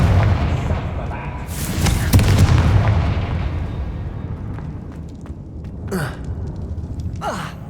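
A Confringo fire spell explodes in Hogwarts Legacy, a loud booming burst with a rumbling tail that fades over several seconds, followed by whooshing spell effects and faint vocal gasps.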